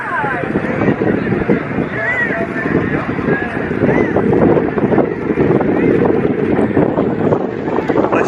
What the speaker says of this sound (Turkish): Çok rüzgar var şu anda.